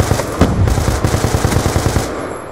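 Sustained automatic fire from a SCAR rifle in a video game, a loud, close, rapid string of shots running almost unbroken for a couple of seconds with no talking over it.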